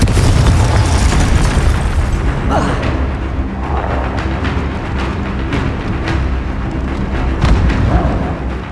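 A Confringo spell blast in the Hogwarts Legacy game erupts with a loud, booming explosion up front, followed by rumbling bursts and crackling magical debris that keep going beneath the combat din.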